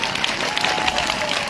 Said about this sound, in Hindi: तमाम बच्चों से गुजारिश जोरदार तालियों के साथ स्वागत किया जाए